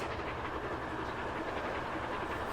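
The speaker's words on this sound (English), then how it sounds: "And train cruises past." A video game train, Transport Fever 2, rumbles past a level crossing steadily at close range, a continuous dense roar of wheels and carriages with no voices over it.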